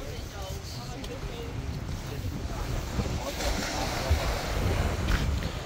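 Ocean surf washes onto the beach beside Busselton jetty in Western Australia. It makes a soft, continuous rushing mixed with wind buffeting the microphone, and the surges swell gently and roughly evenly.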